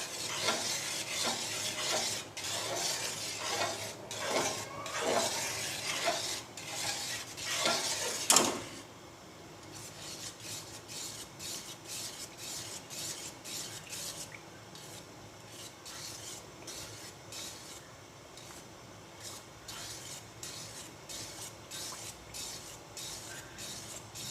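Makhandi halwa roasting in ghee while being stirred, a spoon scraping and rasping rhythmically against the pan over a soft sizzle, louder strokes early and then a quieter, steady fry.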